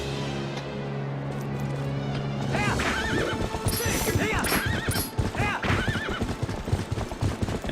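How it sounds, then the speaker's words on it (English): Horse in the Zelda: Twilight Princess video game whinnies repeatedly over clip-clop hoofbeats and game music, the galloping growing louder and busier midway, with a voice talking over it. "Don't bump into this horse."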